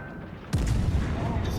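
Warship guns in World of Warships Legends let off a sudden loud boom with a rumbling tail, after a quieter lead-in.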